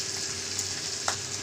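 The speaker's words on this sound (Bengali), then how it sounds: "মাছের ডিমটা ভাজতে দিয়েছি" Fish roe fries in a pan with tomato and potato, giving a steady close sizzle with small crackling pops and a brief louder spit near the end.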